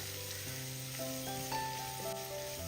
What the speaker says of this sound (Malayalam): ഇപ്പോൾ ഒരു പത്ത് സെക്കൻഡ് ഇതാ ഒന്ന് ഇളക്കി കൊടുത്തിട്ടുണ്ട്